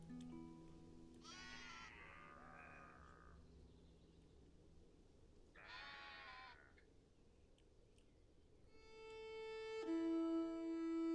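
Sheep bleat in the video game Songs of Syx, two faint, wavering calls a few seconds apart over a quiet ambient game soundscape, followed by a soft tonal chime.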